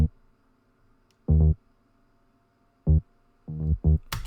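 Dry synth bass with no reverb return, a few short punchy notes in a sparse irregular pattern, separated by near silence, close and fairly loud.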